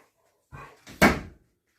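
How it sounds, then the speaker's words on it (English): An assistance dog pushes a washing machine door shut, a soft shuffle followed by a sharp, close thud as the door closes; no voices are present. "You close the door."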